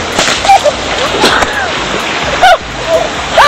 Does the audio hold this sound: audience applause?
no